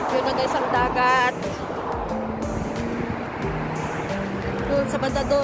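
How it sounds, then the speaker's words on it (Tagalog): Sea waves wash and surge steadily along a shore, with a passing car's engine hum mixed in and people talking over the top. "Yun na guys ang dagat."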